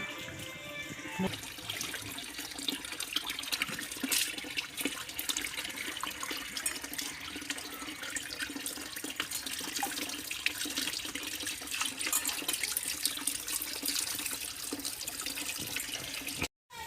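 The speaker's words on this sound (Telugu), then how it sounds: "ఒకటికి రెండు సార్లు కడుక్కోవాలండి చికెను" Chicken pieces are washed under running tap water, a continuous close splashing and trickling that lasts the whole stretch, with small irregular clatters as the meat is handled.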